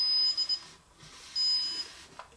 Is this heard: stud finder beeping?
yes